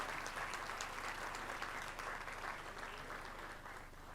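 Audience applause at a law college annual day ceremony, a steady, fairly distant wash of many hands clapping that holds evenly and eases slightly toward the end, with no voices over it.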